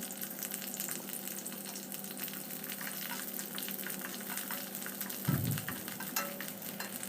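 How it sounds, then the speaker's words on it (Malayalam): Cut okra fries in hot coconut oil, a quiet but continuous crackling sizzle with a brief low thump partway through, like the pan or spoon being knocked. "എണ്ണ നല്ലതുപോലെ ചൂടായി കഴിയുമ്പോൾ കട്ട് ചെയ്ത് വെച്ചിരിക്കുന്ന വെണ്ടക്ക ഇതിലേക്ക് ചേർത്ത് ഒന്ന് ഫ്രൈ ചെയ്തെടുക്കാം"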